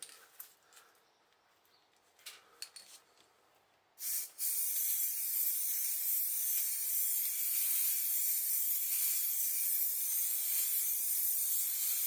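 An aerosol can sprays paint onto the roof of a Citroen C4 Grand Picasso: a few faint taps and handling noises, then a sudden burst into a steady, loud, close hiss that runs continuously to the end.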